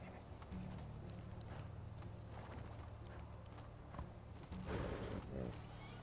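A horse's hooves clip-clop steadily as it is ridden through the medieval world of the video game Medieval Dynasty. The even, rhythmic hoofbeats are fairly faint and run over a low background hum.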